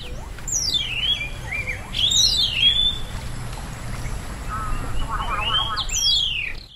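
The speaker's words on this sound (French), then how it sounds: "D'innombrables bandes d'oiseaux des marais volent lourdement au-dessus de nos têtes" Flocks of marsh birds call overhead along a river, with repeated high, swooping cries and chirps over a steady low rumble, moderately near, with no talking.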